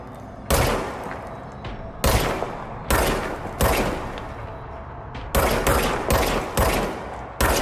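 Gunfire in the video game Control comes in loud, repeated bursts with short pauses between them; the shots are close and punchy and carry no talk.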